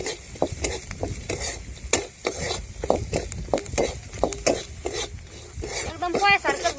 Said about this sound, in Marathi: मग शेंगदाणे व्यवस्थित परतून घ्यायचे याच्यात.